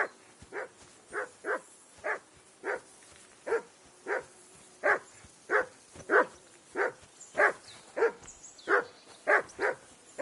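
A dog in the Kingdom Come video game barks steadily and fairly close, about eighteen sharp, evenly spaced barks with a faint whining edge. There is no talk over it.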